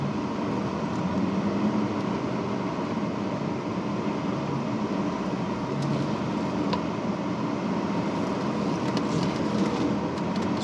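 A Chrysler Crossfire SRT6 with a 6-speed manual drives at a steady pace, its engine and road noise forming an even, continuous interior drone.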